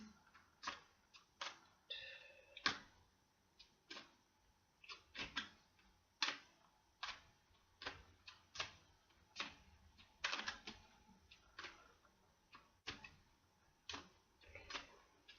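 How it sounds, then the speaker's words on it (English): Angel cards shuffled slowly by hand, a steady series of soft, crisp card snaps and flutters spaced about a second apart, close and quiet with no talking. "slow shuffle today."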